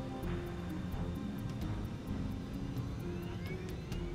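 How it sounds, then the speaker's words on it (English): Boeing 747 jet engines at takeoff thrust during the takeoff roll, a loud, steady roar with a continuous rumble and faint rhythmic thumping underneath, sustained without break. "The 747 accelerates towards takeoff speed"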